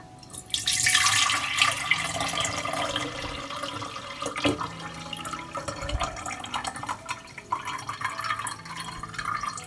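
Liquid strained from oat flakes that have soaked in water for two hours, pouring and dripping steadily into a container with a splashing, trickling flow that continues throughout, no voices.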